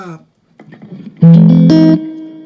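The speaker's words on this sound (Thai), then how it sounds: "เสียงกีตาร์ธรรมดาโดยที่ไม่ใส่ ไม่ใส่เอฟเฟกนะครับ" Clean electric guitar with no effects and a touch of amp reverb: a few soft plucked notes, then two loud sustained chords ringing close and clear, fading at the end, with brief talk at the start.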